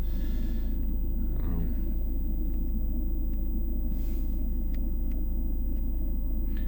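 A 2010 Volvo V50 R-Design with a 1.6 D2 diesel engine, long unused and with a weak battery, runs at idle with a steady, close, low rumble that continues throughout.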